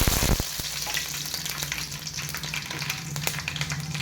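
Mustard seeds, pepper and fenugreek fry in hot oil for a fish curry, giving a steady close sizzle and crackle after a brief sharp burst at the start, with no talking.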